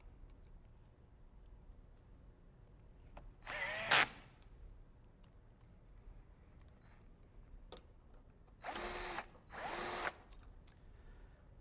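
A power drill fastens screws into a caster on a Carrier OptiClean machine, giving one short whir and then two more brief bursts close by, with quiet pauses in between.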